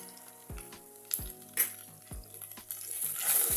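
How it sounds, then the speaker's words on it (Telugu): Spices and chicken liver fry in a pan with a steady, close sizzle. Several sharp scrapes from a spoon stirring and turning the food break through the sizzling. "ఇవి బాగా ఫ్రై చేద్దాం."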